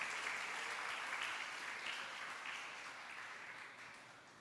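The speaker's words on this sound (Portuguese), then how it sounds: "Vamos receber nosso irmão com uma salva de palmas" A church congregation claps to welcome the evening's preacher, a soft, steady wash of applause that slowly fades toward the end, with no voices over it.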